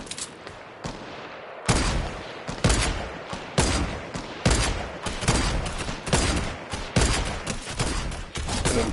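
Rapid bursts of video game gunfire crack out in a dense, uneven barrage, several loud volleys following a quieter opening stretch with no one talking.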